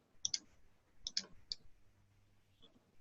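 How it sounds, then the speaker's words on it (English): Several quiet mouse clicks come in small pairs and singles, sharp and close in a near-silent room. "We're just going to click OK."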